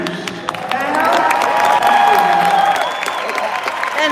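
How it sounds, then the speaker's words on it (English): A large audience at a business forum in Miami breaks into sustained applause and cheering, a dense roar of clapping and whoops with a few shrill whistles, staying loud and steady for about four seconds. "And the crowd goes wild for 2 genders"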